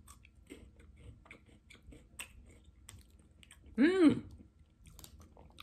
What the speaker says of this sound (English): So it's going to break off one half of that Kit Kat bar. And we'll bite into it.